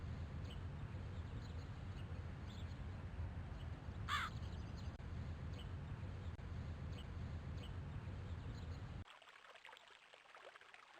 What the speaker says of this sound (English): Crows make a loud noise that sounds like they're saying, caw, caw.